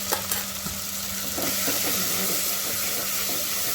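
Masala gravy for lauki malai kofta, salted and cooking in a pan, gives a steady close sizzle with continuous stirring and scraping throughout.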